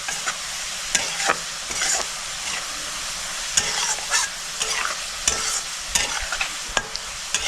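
Onions fry in hot oil, browning for a fish korma, with a steady, close sizzle and repeated scraping and clicking of a spatula stirring the pan.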